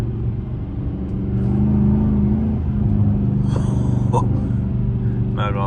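A 478 hp Dodge Charger R/T with all-wheel drive pulls hard at night, a loud, sustained engine rumble building steadily from inside the cabin while someone talks over it.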